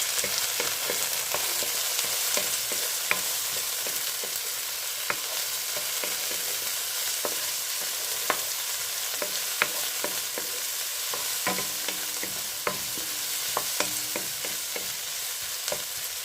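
Tomatoes stir and fry in a pan with a steady close sizzle, punctuated by soft scraping and clicking of the utensil at an irregular rhythm, no voices.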